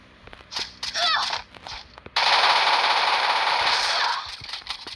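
Rapid automatic gunfire in the Counter-Strike video game, scattered shots first, then a loud, sustained burst of near continuous firing lasting about two seconds.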